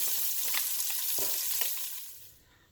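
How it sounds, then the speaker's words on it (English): Pork browns in a pan over medium-high heat for Mexican-style pork and squash, a close, continuous sizzle broken by a few stirring scrapes, fading quieter toward the end, with no talking. "You really want to get this browned in the pan"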